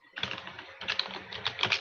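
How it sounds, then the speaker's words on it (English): Fast typing on a computer keyboard during an online meeting, with a quick, uneven run of light clicks and key taps heard up close and alone. "I'm typing real quick"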